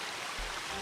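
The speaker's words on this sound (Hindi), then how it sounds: "झरने की आवाज गूंज रही है।" A hillside waterfall pours steadily, a dense, even roar of rushing water, close and continuous with no other sounds.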